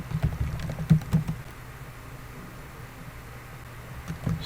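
Computer keyboard typing while filling in a business page description, a short cluster of close keystrokes near the start, then a quieter lull and a few more taps at the end.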